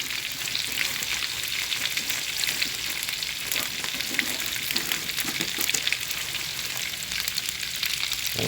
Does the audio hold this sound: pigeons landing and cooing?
no